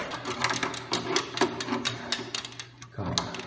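A QT-300N restroom exhaust fan runs on its newly installed motor, giving a steady low hum with a busy rattling, clicking texture on top that shifts in intensity over a few seconds.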